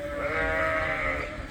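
Weaned ewes bleating in a barn after being separated from their lambs, a dense, sustained chorus of overlapping calls held steadily loud for the whole stretch, with no talk.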